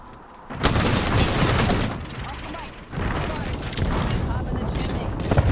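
Gunfire and booming shots from Apex Legends, a trio match played as a duo, sound in dense bursts through most of the stretch, with one short lull. Players talk over the shooting.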